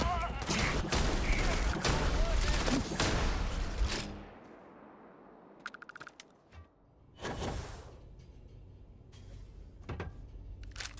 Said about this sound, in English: Reload, shoot that guy. Close in range. Let's shoot those guys.